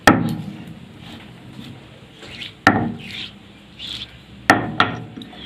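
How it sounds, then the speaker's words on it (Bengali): Roasted cumin and radhuni seeds ground by hand into a paste on a stone, with sharp knocks, scraping grinding strokes and a few wooden clacks, fairly close with no one speaking. "এইটা জিরে আর রাঁধুনি, এটাকে আমি ভেজে নিয়েছি। ভেজে এটাকে আমি বেটে নেব।"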